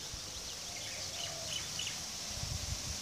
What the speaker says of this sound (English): Look at the little birds.